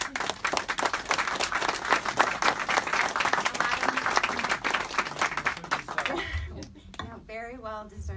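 A conference audience claps at the Pacific Council on International Policy's Policy West gathering, dense sustained applause filling the room before fading, with a speaker's voice starting up at the end.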